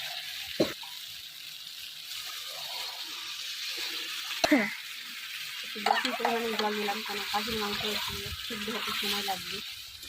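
Spices being stirred in a pan as water is poured in, with quiet sizzling, occasional utensil knocks and a rising bubbling hiss toward the end, while a voice talks intermittently.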